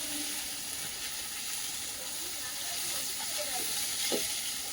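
Bay leaf dropped into hot oil in a home kitchen pan gives a steady, bright sizzle and hiss, fairly close and even throughout, with no one speaking.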